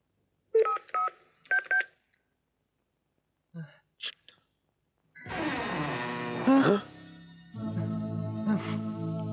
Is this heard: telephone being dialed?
yes